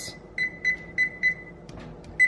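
Kitchen oven beeping as it is set to preheat to 425, a series of short, clear electronic beeps in an uneven rhythm, fairly close with no talking.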